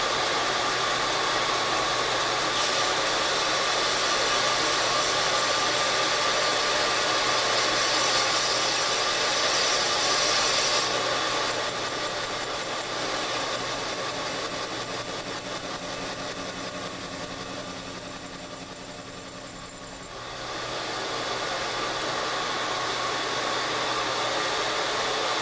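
A lathe cuts a piston ring groove, a steady droning machine whir that runs continuously, dips slightly in the middle and then returns to full level, with no talking.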